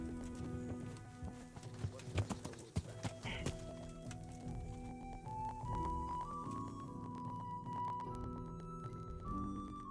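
Horse hooves clip-clopping as a horse approaches in the medieval game Kingdom Come: Deliverance, steady footfalls over game music and ambience, fairly faint.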